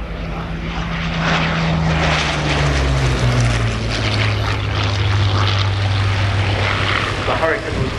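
Hawker Sea Hurricane propeller fighter flying an air display at Old Warden, its engine a loud sustained drone with shifting pitch as it passes, while a commentator talks over it.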